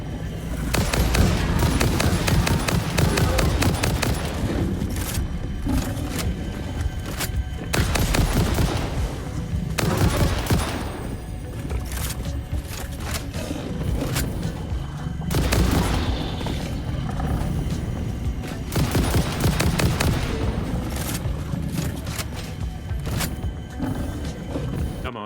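Rifle fire from the video game Satisfactory crackles in rapid, dense bursts with deep booms, loud and continuous, mixed with creature roars and game noise.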